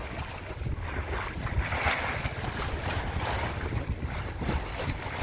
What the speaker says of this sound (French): Essayez d'écouter le gazouillis de l'eau.